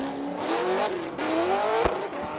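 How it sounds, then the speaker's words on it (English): A Chevrolet Corvette drift car on Achilles tires, Lingenfelter-built, roars loudly at a Formula Drift qualifying event at Irwindale, engine pitch rising and falling steadily with one sharp bang near the end. "Piloting that Lingenfelter Fortune Auto Achilles tire, Stratton Chevrolet Corvette."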